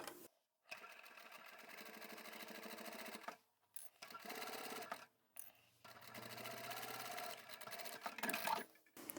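A sewing machine stitches a seam along the original crease of an old men's tie being made into a glasses pouch, running in steady rapid bursts broken by brief stops, close and quiet, with no speech.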